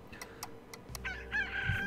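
Chickens in the video game Slime Rancher cluck and crow in short bursts, with a few clicky ticks at first and then a louder squawking call close up.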